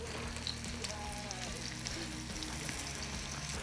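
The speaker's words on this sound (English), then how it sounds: "saute for a bit until they get nice and brown on either side" Chicken sautéing in olive oil in a hot pan over medium heat, a steady close crackling sizzle with no talk.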